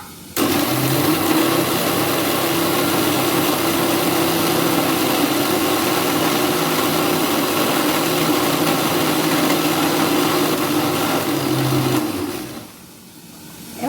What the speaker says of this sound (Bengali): পোস্তটা বেটে নিচ্ছি আগে শুকনো বেটে নেবো